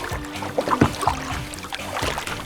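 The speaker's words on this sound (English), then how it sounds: "I'm paddling fast." A double kayak paddled on coastal water in Pembrokeshire, Wales, with soft splashes and drips as the paddles dip and lift in an irregular rhythm, close by and fairly quiet.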